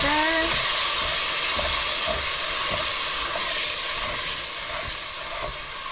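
Food for butter chicken frying in a pan gives a loud, even sizzling hiss that fades slightly toward the end, with soft rhythmic scrapes from stirring underneath.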